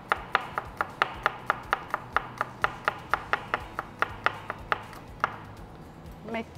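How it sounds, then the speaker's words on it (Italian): Knife rapidly and finely chopping spring onion on a cutting board, about twenty crisp, evenly spaced taps in a steady rhythm, close and clear, slowing near the end before a brief rustle. "mettiamo una parte di cipollotto anche dentro, tagliato finemente"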